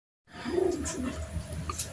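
A racing pigeon gives a soft, low, throaty coo, a brief close call of about two seconds that rises and falls in short pulses.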